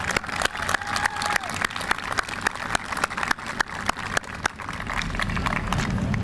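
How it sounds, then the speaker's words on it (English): Audience applause at a Pittsburgh Bureau of Fire graduation ceremony, with sharp individual claps standing out over a crowd and some cheering, carrying on for several seconds. "Let's give them another round of applause."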